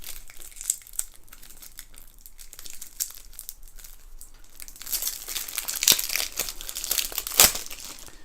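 Crinkly plastic shrink-wrap being torn off Pathfinder Adventure Card Game cards from the Mummy's Mask set, a steady close crackle that swells into louder ripping bursts, with no one talking.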